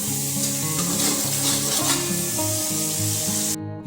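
Cumin, turmeric and chilli powders with a splash of water bubble and sizzle in a pan for Mughlai chicken curry, a close, even frying hiss over a steady musical background, cutting off abruptly at the end.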